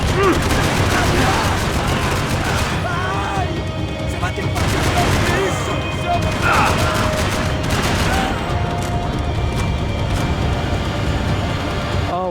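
Machine gun fire in the Max Payne 3 video game, dense continuous bursts of rapid shots blending into a loud, sustained barrage with occasional heavier booms.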